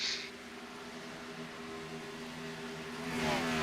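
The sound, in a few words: NASCAR stock car engine entering pit lane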